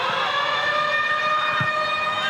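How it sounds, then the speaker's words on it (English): A stadium half-time siren at an under-20s rugby league match, heard as a steady, sustained wail with layered harmonic tones, moderately loud above a faint crowd background for the whole stretch. "They heard the siren in the background."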